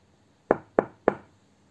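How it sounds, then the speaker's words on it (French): Three loud, evenly spaced knocks on a wooden door, like a fox pounding with both fists in a rabbit's story, each thump sharp and close with a quick decay, and nothing else heard. "C'était Renard qui tambourinait des 2 poings sur la porte."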